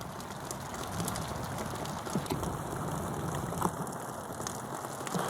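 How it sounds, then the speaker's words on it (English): Very heavy rain with big drops pours outdoors near bee shelters and a small pond, a steady broadband hiss that holds level throughout with faint scattered patters and no talking. "It's raining very hard. Big raindrops."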